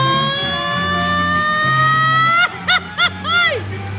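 A voice shouts an imitation of an ambulance siren, a long rising wailing tone, then several short yelping whoops, with low background chatter beneath.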